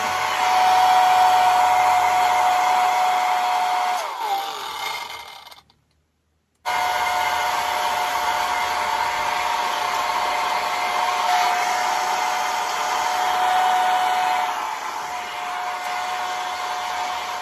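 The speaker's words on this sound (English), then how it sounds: "This is a little camper van mini cigarette lighter hairdryer that I'm dying to use" A small camper van mini hairdryer powered from a cigarette lighter socket runs with a steady whirring whine, cutting out briefly for about a second before starting up again and running on.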